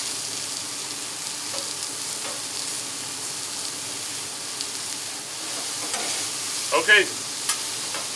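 Potatoes cook on a griddle top with a faint, steady sizzle and a few soft scraping clinks near the end, while a voice briefly speaks.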